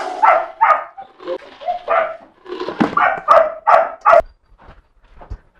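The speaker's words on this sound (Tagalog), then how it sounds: "So, kung mapapansin nyo, tumatahol siya ng kusa." A Belgian Malinois barks eagerly before being fed, letting out a close, loud string of about eight sharp barks in uneven bursts, with a few faint sounds trailing after.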